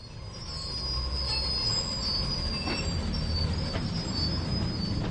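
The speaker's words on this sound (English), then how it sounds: "Very screechy, look at those old brakes." Old train brakes in Train Sim World 2 (HBL) give a loud, sustained metallic screech over steady rolling rumble and wheel noise, with no talk.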